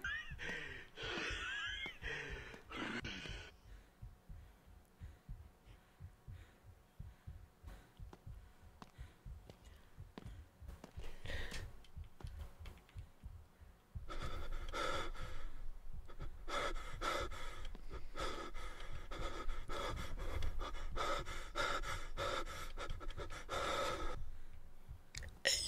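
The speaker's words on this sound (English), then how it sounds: "She's breathing mad loud." A character in the horror video game Fears to Fathom: Woodbury Getaway pants and gasps heavily in rapid, close, repeated breaths, with short quieter gaps and bursts of louder breathing, while running.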